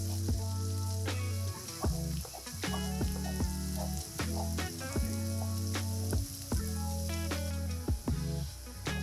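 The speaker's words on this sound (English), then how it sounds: "We continue by adding the diced red pepper. We sear it for a few minutes" Diced red pepper searing in a pan for a seafood paella, a steady close sizzle with scattered spits and pops throughout, occasional stirring scrapes, and no voices.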